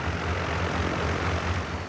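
Flying machine in the Thomas & Friends cartoon, a steady droning engine hum with a low rhythmic pulse, continuous and moderately loud throughout, with no voices.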